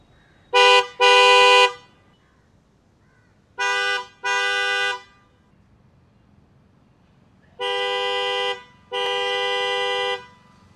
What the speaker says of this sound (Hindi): कुछ ऐसी है इस हॉर्न की आवाज़ अभी आपने सुनी